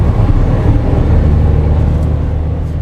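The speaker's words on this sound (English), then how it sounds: "Typical 3-cylinder." A Toyota hatchback's 65-horsepower three-cylinder engine runs steadily with a low, even thrum, close and constant throughout with no voices over it.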